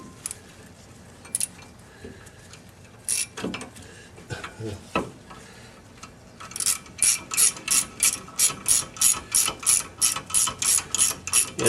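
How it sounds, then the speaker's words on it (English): Ratchet wrench clicking on the front brake assembly of a 2007 Mercedes C230, first scattered handling knocks and clicks, then a steady series of about fifteen rhythmic ratcheting strokes close up. "it might be easier to use the wrench"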